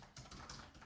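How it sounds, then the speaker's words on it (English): A short run of keystrokes on a computer keyboard while entering a search query, a few quick soft clicks close by, with no talk. "So basically type your query here."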